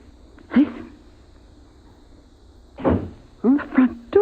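A front door opens in an old-time radio science fiction drama, heard as a few separate thuds and clacks of handling and latch with short pauses between them, fairly close, with no voices.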